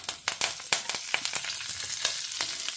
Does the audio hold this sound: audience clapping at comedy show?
no